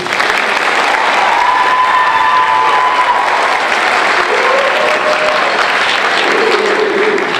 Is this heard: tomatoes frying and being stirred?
no